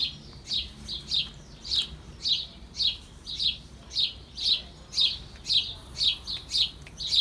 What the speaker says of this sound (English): And the birds have come to look as well.